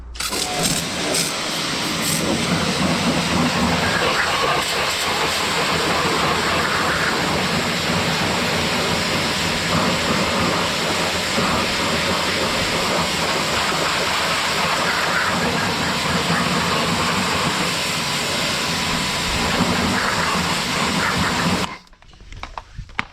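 A pressure washer sprays parts from a 1994 MK3 Volkswagen GTI with a loud, steady roar of water and motor running unbroken for over twenty seconds before cutting off.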